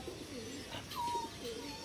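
Soft cooing of pigeons outdoors, a couple of faint low calls over quiet ambient background with no talking.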